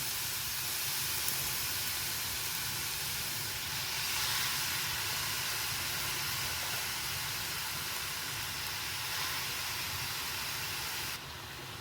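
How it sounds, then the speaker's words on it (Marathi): Grated carrot goes into a hot pan for carrot halwa, giving a steady broadband hiss and sizzle that holds evenly for about eleven seconds with no talking, then drops slightly at the very end. "किसलेला गाजर आपल्याला यामध्ये घालायचं आहे."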